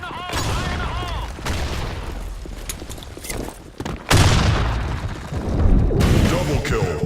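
Grenade blast and bursts of gunfire in the shooter game BlackShot, loud and close, with heavy booms and rapid shots under game voice callouts.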